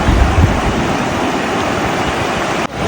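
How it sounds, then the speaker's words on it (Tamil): A glacier-fed river rushes near Sela Pass in Arunachal Pradesh under light drizzle. Its loud, steady roar fills the whole stretch and dips abruptly near the end, with no voices. "நதியோட சத்தம் மட்டும்தான் கேட்குது."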